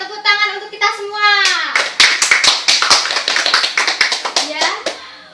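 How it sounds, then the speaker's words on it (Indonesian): Applause from a group at an Indonesian university presentation on curriculum issues: dense clapping rises after a voice speaks and continues steadily through the rest of the clip, with some voices mixed in. "Luar biasa, tepuk tangan untuk kita semua."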